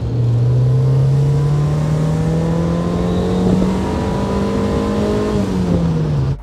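Engine of a first-generation NA Mazda Miata revving hard to 7,500 RPM, a loud close rising scream that climbs steadily in pitch, holds near the top, then eases off briefly at the end.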